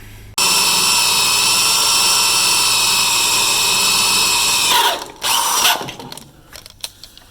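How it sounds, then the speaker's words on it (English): Power drill boring a pilot hole into a metal casting, a loud steady whine for several seconds before it cuts off into scattered clunks and rattles, up close. "Okay, so pilot hole is drilled."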